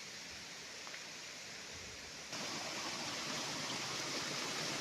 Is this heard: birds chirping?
no